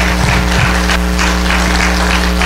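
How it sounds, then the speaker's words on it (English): Church congregation clapping hands in praise, a steady, loud wash of applause from many people, continuous and alone with no talk over it. "Come on and give God a hand clap of praise right now."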